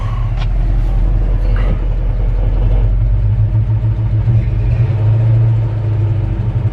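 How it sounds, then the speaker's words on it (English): A truck engine with a slight exhaust leak idles steadily and loudly close by, a deep continuous rumble with a slight ticking quality and no talking. "Love the sound of this truck."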